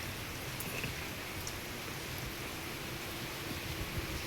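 Fine, wind-driven rain spray falling outdoors, a faint, even patter and hiss that stays constant throughout.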